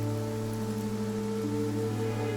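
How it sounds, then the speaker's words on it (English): Steady rain patters throughout a scene in the video game Infinity Nikki, a constant even hiss mixed with sustained musical tones underneath. "Nikki, it looks like it's going to rain."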